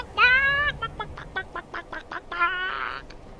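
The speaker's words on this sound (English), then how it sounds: "More chickens!" Chickens in a video game give a run of loud, shrill squawking calls: a long drawn-out cry, then a string of short clipped bursts, then another long cry, with no talk over them.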